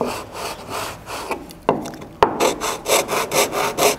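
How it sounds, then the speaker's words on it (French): Sandpaper rubbing back and forth along the sides of a wooden toy car, loud, close, rhythmic abrasive strokes, briefly interrupted by a couple of knocks before the steady strokes resume. "Donc juste sabler tous les côtés pour qu'ils soient lisses"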